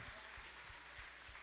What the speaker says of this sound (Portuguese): Aplauda esse Deus sublime.